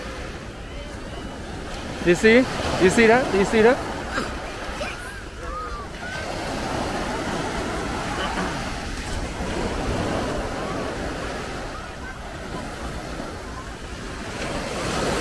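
Surf washing in at Coney Island with a broad rushing swell, wind noise on the microphone, and a person talking excitedly near the start.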